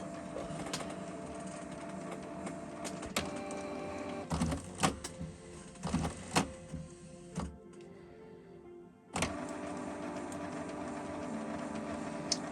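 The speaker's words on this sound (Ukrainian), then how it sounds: "Після цього як принтер зробить процедуру очищення" A Canon G3411 inkjet printer runs a print head cleaning cycle, with steady mechanical whirring and a low hum, broken by several sharp clicks and clunks of the head carriage and a brief near-silent pause before the motor resumes.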